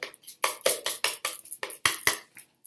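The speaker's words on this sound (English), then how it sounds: "I might even try and do this with a whisk." A whisk beating mashed avocado and banana in a bowl for sugar-free chocolate cookies, making a rapid series of close, scraping knocks in uneven bursts with brief pauses between.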